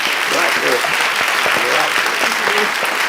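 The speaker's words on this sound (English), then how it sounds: "because I think we owe our presenter, Alison, a big round of applause for a job well done." Applause for a presenter at the end of an online community-groups meeting, a steady wash of clapping that runs through the whole moment, loud and continuous with faint voices mixed in.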